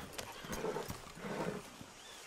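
A horse in the Red Dead Redemption 2 video game moves with quick, uneven clip-clop hoofbeats and a few soft snorting noises, fairly faint and with no voices.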